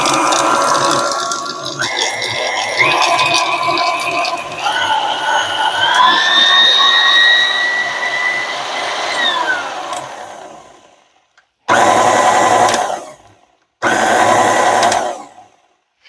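A KitchenAid stand mixer running after regreasing, a loud close mechanical whir with gear whine rising and falling in pitch as speeds change, then cutting off and starting again in two short bursts.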